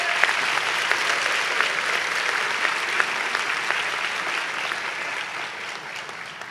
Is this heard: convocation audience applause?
yes